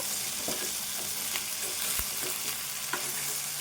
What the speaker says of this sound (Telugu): బెండకాయను ఫ్రై చేసుకోవాలి ఇప్పుడు